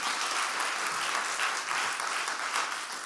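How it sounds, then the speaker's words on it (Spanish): A church congregation claps steadily and loudly throughout, a dense sustained applause filling the room with no pauses. "amen, you can clap on that"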